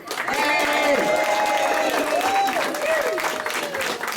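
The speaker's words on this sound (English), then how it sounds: "Let's try that again and try out the clap sound." A radio show audience claps and cheers steadily, a dense wash of applause throughout, with whoops and a voice riding over the crowd.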